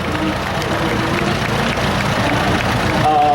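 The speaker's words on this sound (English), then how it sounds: "What a big round of applause applause for my school band." Crowd applause for a school marching band at a rodeo parade in Livermore, steady dense clapping that carries through the whole stretch, with background crowd noise and a faint tonal sound near the end.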